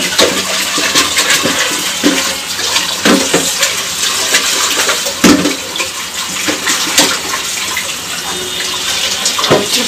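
Water from a tap runs steadily and strongly while something is rinsed clean in a kitchen before making phirni, a continuous loud splashing rush with occasional sharper bursts, no talking.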